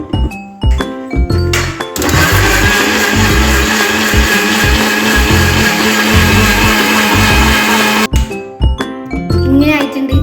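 A mixer blender whirs steadily for about six seconds as it blends papaya shake with sugar and fresh cow's milk, loud and close, with brief clattering and handling sounds before and after.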